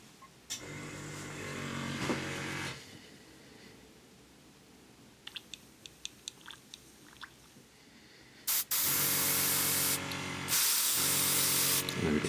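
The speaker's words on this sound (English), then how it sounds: "I'm actually going to bubble some air through" A Sparmax Max-4 airbrush bubbles air back through the thinned paint in its cup, giving several loud bursts of bubbling hiss separated by short pauses and a quieter spell of faint clicks and gurgles.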